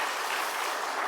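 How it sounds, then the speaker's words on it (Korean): A church congregation applauds to welcome disabled guests at a Sunday worship service, a steady, dense wash of many hands clapping at even strength throughout, with no voices. "우리 뜨겁게 한번 우리 장애우들에게 한 박수로 환영하겠습니다"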